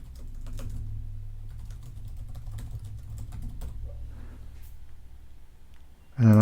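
Someone types on a computer keyboard for browser automation software, giving soft, quick, irregular key clicks close by over a low hum, ending with a louder thump.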